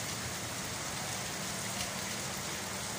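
Heavy rain pours down in Manila as a steady, even hiss that stays constant throughout, fairly faint, with no voices.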